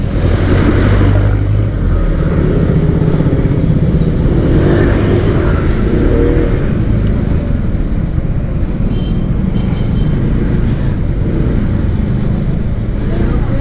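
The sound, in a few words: truck driving on the right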